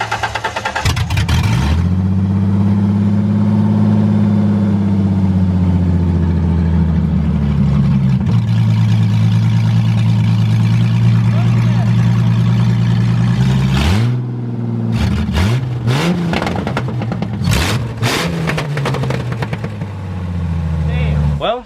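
A cheap drift car engine cranks and fires, then holds a loud rough idle with a rising rev, before several sharp blips and stutters; voices are heard nearby.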